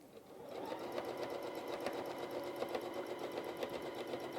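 A Pfaff Ambition 1.0 sewing machine stitches free-motion quilting with variegated thread, a steady fast mechanical whir with rapid needle ticking that runs continuously at close range and moderate level.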